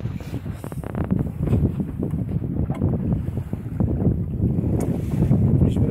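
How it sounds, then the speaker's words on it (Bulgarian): A wooden gaff schooner, a 17th-century-style vessel, under sail at sea on a coastal passage, with steady gusting wind buffeting the deck and microphone over a low rushing wash of water, no voices. "намираме се на борда на Халонг, една уникална шхуна, всъщност тя е гафелна шхуна"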